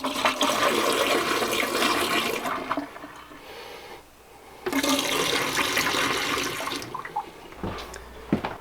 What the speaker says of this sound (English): you want to go ahead and take your leftovers and just pour them down the drain